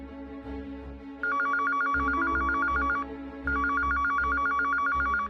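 A telephone rings in two long electronic trilling bursts with a short gap, loud and close, over a low steady background hum.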